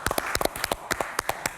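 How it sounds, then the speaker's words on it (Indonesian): Clapping for a guest in a studio audience, a scattered run of sharp individual hand claps at irregular rhythm, close and fairly crisp, without talk. "berikan tepuk tangan untuk Ibu."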